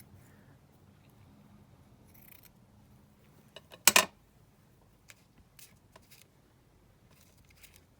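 Scissors snip blue lace while trimming a junk journal page, a single crisp cut standing out in an otherwise quiet room, with a few faint small clicks and rustles afterward.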